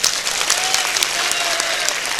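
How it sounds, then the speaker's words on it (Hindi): A crowd at a spiritual discourse bursts into loud, sustained clapping close by, the dense applause holding steady from start to finish. "एक बार ताली बजाओ इनके लिए।"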